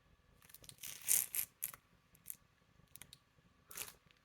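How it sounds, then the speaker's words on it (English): Large piece of fabric crinkling and rustling at a crafting retreat, in a few scattered bursts of crisp handling noise, the loudest in the middle, with quieter rustles later and no talk. "Sorry for the crinkling if you've got headphones in."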